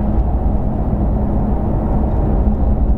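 Supercar cruising at 70 km/h on the road, heard from inside as a steady, low, muted engine and road hum with a faint tonal drone, even and unbroken throughout.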